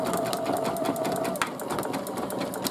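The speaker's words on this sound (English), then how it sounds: "I'm now going to do a fill stitch, which is going to be the iris of the" An embroidery machine runs a continuous fill stitch on an applique hooded towel, a steady fast mechanical whirring and rapid needle chatter holding at even loudness throughout, close by.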